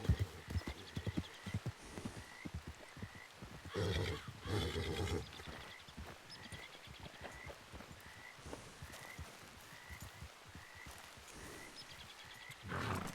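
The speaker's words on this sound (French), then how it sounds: "Ils sont un peu énervés les chevaux là." Several horses neigh and whinny in a western video game, agitated by a nearby snake, with repeated loud whinnies over hoof clip-clops and a steady background bed of game ambience.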